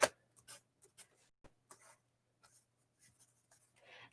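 Pen scratching on paper during mask crafting, quiet short strokes coming in scattered bursts, close and soft with gaps between them.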